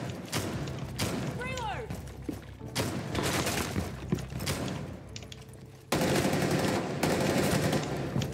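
Rainbow Six Siege gunfire shoots through walls in repeated sharp bursts with thuds and debris, loud and close, while voices talk between and over the shots.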